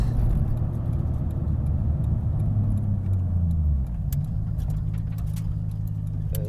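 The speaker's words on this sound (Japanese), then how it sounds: "とりあえずここに駐車していきます。" A Nissan Skyline GT-R R34 idles with a loud, steady low engine rumble that dips slightly as it settles into a parking spot, with some light rattles and clicks over the hum.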